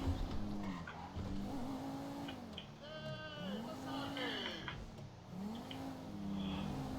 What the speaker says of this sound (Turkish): Arabamızı aldık gidiyoruz arkadaşlar.